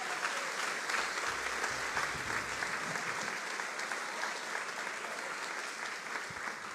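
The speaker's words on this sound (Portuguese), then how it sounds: "Você pode aplaudir o Senhor bem forte?" A church congregation applauds during a Portuguese-language worship service, a dense, steady wash of many hands clapping that fills the whole stretch at even loudness, with no voices standing out.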